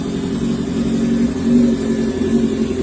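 A 2006 Kawasaki Ninja ZX10 sport bike engine runs close by, a steady throaty idle that swells briefly with a light rev before settling again, no voices over it.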